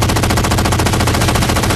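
Rapid, continuous SAW machine gun fire in Halo 4, loud and close, one unbroken burst of evenly spaced shots with no talking.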